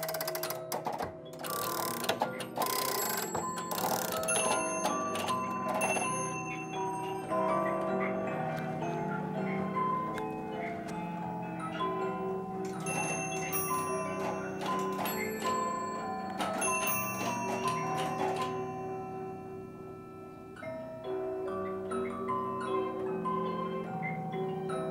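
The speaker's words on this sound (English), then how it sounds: "it's not just the typical music box. It also plays bells and drums and other little surprises." An antique mechanical music box in a historic house parlor chimes tinkling bell tones with drum taps and ticking mechanism clicks, playing continuously and fairly close, with no talk over it.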